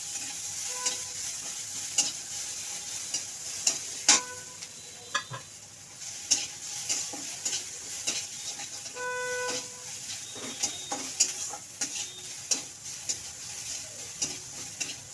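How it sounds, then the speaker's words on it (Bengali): Green chillies and ginger fry in hot oil in a home kitchen, a steady close sizzle punctuated by repeated sharp clicks and scrapes of stirring, with no talking. "তেলটা গরম হয়ে গেছে, আমি দিয়ে দিচ্ছি কাঁচা লঙ্কা, দিয়ে দিচ্ছি আর আদা"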